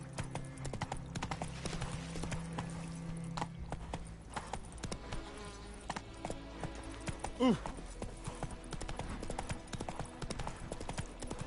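Horse hooves clip-clop at a steady trot in The Witcher 3, Geralt's horse Roach on a road, with game music and ambience underneath and a brief voice near the end.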